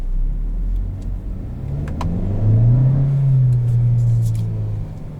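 A 2022 Kia Soul Turbo pulls away from a hill start. Its engine rumbles at idle, then rises into a smooth revving climb that holds and eases off, heard close from inside the cabin with no talking.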